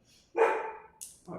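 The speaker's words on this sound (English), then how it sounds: "I'm really sorry, Milo, he's barking in the background. Someone is bothering him outside." A dog barking outside in the background, giving one full bark followed by a short yip and the start of another bark, muffled and moderately distant.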